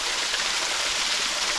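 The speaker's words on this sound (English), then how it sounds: "Tiny little waterfall out in the middle of somewhere that should never have something like this" A tiny waterfall at Peachtree Rock Heritage Preserve in Gaston, South Carolina, a steady close rushing and splashing of falling water that stays even and loud throughout, with no voices.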